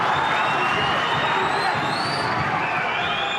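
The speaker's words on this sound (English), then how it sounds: "Crowd making a lot of noise now." Arena crowd at a UK professional boxing bout roaring and cheering steadily throughout, a dense, loud wash of voices with whistles and shouts rising above it.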